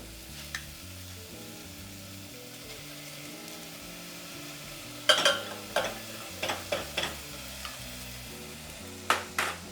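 Green beans and tuna going into a frying pan and being stirred: a low sizzle underneath, then a cluster of sharp utensil scrapes and clinks against the pan, close up with no voices.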